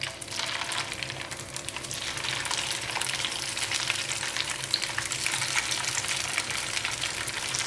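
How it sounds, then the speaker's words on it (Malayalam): Coconut cutlets frying in hot oil, a dense, even crackling sizzle that holds steady and close throughout with no talk. "ഇനി ഈ കട്ട്ലേറ്റും ഫ്രൈ ആയി വരട്ടെ"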